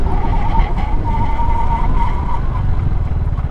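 A Downtown 350i scooter brakes hard and its tyre skids, a loud sustained squeal with a wavering tone over steady road and engine rumble.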